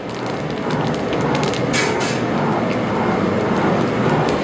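Fennel seeds sizzle loudly and close up in hot sesame oil for a tempering, a dense crackling hiss with sharper pops scattered through it.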